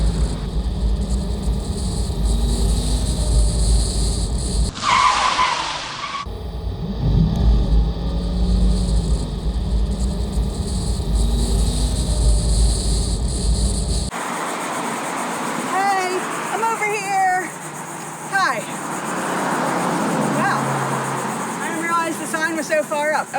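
A car drives along MacArthur Road toward Fletcher Beach in Martin County on Florida's Treasure Coast, with a steady low road and engine rumble from inside the car, a brief break partway through, and talking at times.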